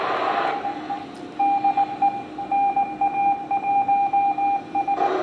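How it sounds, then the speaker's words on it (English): An amateur radio receiver carries a CW beacon from the International Space Station: a steady tone keyed in rapid Morse dits and dahs, clear over soft static, with a brief noise burst at the end. "That is the CW beacon of N. Beacon was NA1 SS."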